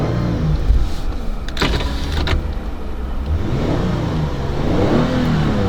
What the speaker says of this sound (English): Give the car a little rev.